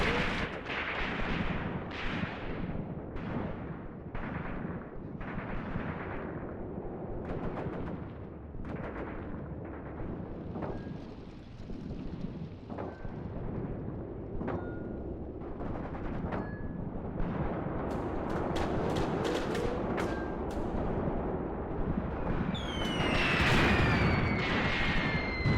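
Artillery shells and machine gun fire rake a battlefield in Graviteam Tactics: Mius Front, a steady barrage of distant booms and sharp cracks, with rattling bursts and whistling rounds building loudly toward the end.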